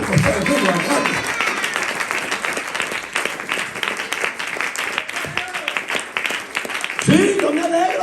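A church congregation claps together in a steady burst of applause that fills the room, with a voice heard speaking at the start and again near the end.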